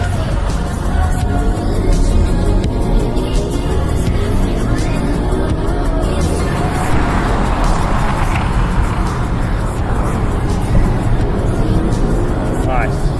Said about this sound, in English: Left foot on the brake, right foot on the throttle.